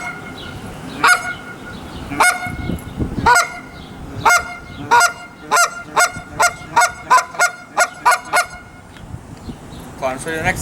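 Goose call blown to imitate Canada goose clucks and honks: a few spaced honking calls, then a fast run of about ten short, sharp clucks in steady rhythm, loud and close, with no talking over them.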